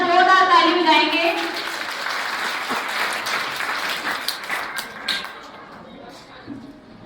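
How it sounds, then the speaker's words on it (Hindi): A gathering of mothers at a children's school programme bursts into loud, dense clapping right after a voice speaks. The applause fades into scattered claps and murmurs. "एक बार सारी मातृशक्ति एक बार जोरदार ताली बजाएंगे।"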